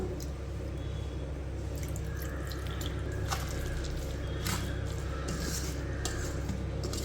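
Water is poured into a cup of yogurt to thin it for a quick dosa batter, heard as a close run of small drips and trickles at a moderate level.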